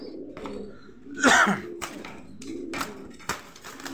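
Blue bar Stature pigeon in a loft, one louder coo burst near the middle and quieter coos and taps around it, close and fairly faint.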